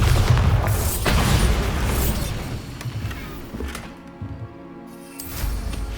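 A Bombarda spell goes off in Hogwarts Legacy with a heavy, booming blast up front, followed by crumbling, rattling debris that fades and then swells again near the end.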